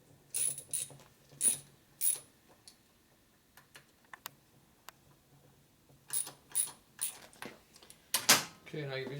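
Ratchet tightening bolts on a Harley-Davidson Evolution motor during a 2000 FXR 80ci rebuild, heard as bursts of close, rapid clicking separated by short pauses and lighter taps.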